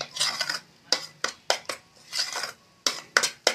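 Metal spoon scraping and clanking against a kadai while stirring palm kheer, a string of sharp close knocks in uneven bursts with short pauses.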